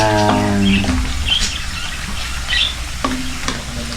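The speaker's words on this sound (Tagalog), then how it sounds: "nagigisa ako ng luya, hinihiwa ko ng pino" Finely chopped ginger sizzles steadily while being sautéed in a pan, with faint stirring scrapes; a low hum sits underneath, and a brief tonal tone sounds early on.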